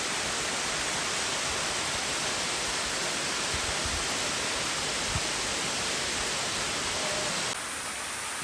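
Florida's tallest waterfall at Falling Water State Park, plunging into a deep pit, producing a constant broad rushing roar that stays even and unbroken, slightly softening near the end.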